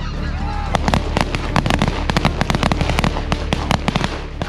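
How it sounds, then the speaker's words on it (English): Shotguns fire in rapid, irregular volleys during a goose hunt in Arkansas, sharp loud cracks overlapping for several seconds while geese honk in the background. "get up and shoot and just keep shooting until you know you shot your two birds"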